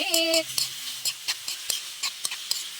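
Sautéed ginamos fermented fish paste with tomato and sweet potato is stirred in a pan, a series of evenly spaced scraping taps of a utensil over a soft sizzle, with brief voice sounds early on.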